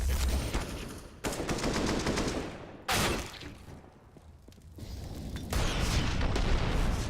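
Bursts of gunfire in Counter-Strike during a BLAST Premier esports match: loud clusters of rapid shots separated by brief lulls, one sharp blast mid-way, heard without commentary over them.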